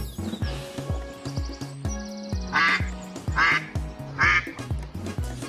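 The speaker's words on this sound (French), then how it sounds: "Voici les canards." Ducks quack repeatedly in a steady rhythm, close and clear, with a few higher chirps mixed in and bright splashy bursts between calls.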